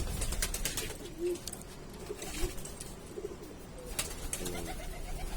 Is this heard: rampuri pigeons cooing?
yes